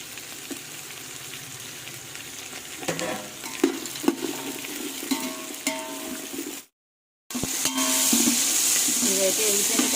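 Tomato and carrot pieces with cashews fry in a pan for coriander-mint pulao, a loud sizzle broken by scraping stirs. The sound cuts out briefly and returns brighter and hissier, with a little talk now and then.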